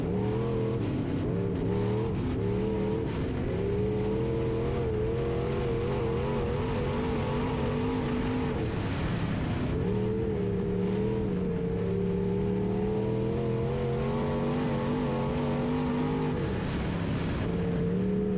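A B Mod race car engine runs flat out on track at Springfield Raceway in Missouri, a steady, loud, droning roar with rising and falling revs through corners and straights, with no talk over it.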